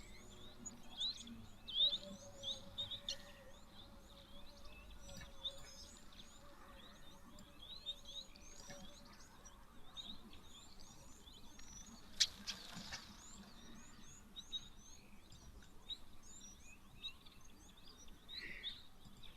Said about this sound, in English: So a lot of these smaller birds, the waxbills and the firefinches,